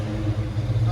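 A 1969 Ford Falcon inline six with dual Flowmaster Super 10 exhaust rumbles at close range, a steady deep idle swelling slightly under a brief rev, with people talking over it.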